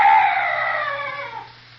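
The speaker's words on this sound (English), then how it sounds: "Oh, some night birds." An eerie night bird call sounds as an effect in a 1942 radio drama: one loud, sustained wavering cry that fades out over a low steady hum.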